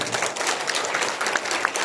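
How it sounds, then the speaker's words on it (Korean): Audience applause at a book launch celebration, a dense, steady patter of many hands clapping together in a hall, with a few sharper individual claps standing out. "여러분 저분이 위해서 큰 박수 한번 보냅시다"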